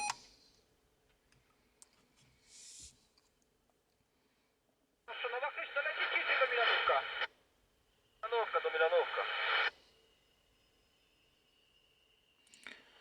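A CRT 2000 12/24V CB radio with adjustable squelch receives signals, with two loud bursts of crackling, hissing reception lasting about two seconds each, separated by quiet gaps with faint clicks.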